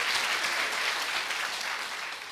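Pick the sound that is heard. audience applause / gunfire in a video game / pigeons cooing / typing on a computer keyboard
audience applause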